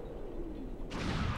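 Explosions in the Star Fox 64 Macbeth level on the N64: a rumbling low blast with a sharp bright burst joining about a second in, loud and continuous.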